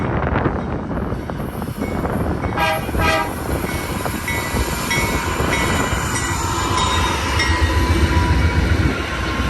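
A GE Dash 9 locomotive hauls a freight train through Cajon Pass. Its engine rumbles loud and steady throughout, with horn tones sounding around the middle and faint wheel squeal rising above the heavy rail noise.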